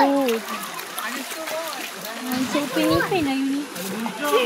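Water splashes and splatters as people bathe in a river, with irregular close splashes and trickles mixed under constant lively talk, including children's voices.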